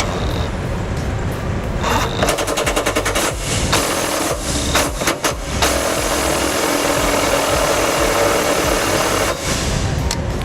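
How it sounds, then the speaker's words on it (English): A power tool drives bolts into the frame of a Ford Transit van with a 15mm socket during a trailer hitch install, with a steady motor whir broken by bursts of rapid ratcheting impacts, close and loud. "go halfway in using our 15mm socket, and then back them out again"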